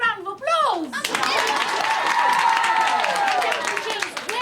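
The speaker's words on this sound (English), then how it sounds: "let's have a big round of applause" A small group bursts into a round of applause after a speaking voice, clapping steadily for a few seconds while a voice and other chatter carry over the top.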